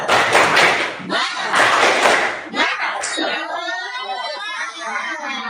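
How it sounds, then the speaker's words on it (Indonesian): A classroom of students performs the rhythmic 'tepuk semangat' spirit clap routine, loud bursts of group clapping in patterned beats, with voices chanting and shouting along before fading. "Tepuk semangat."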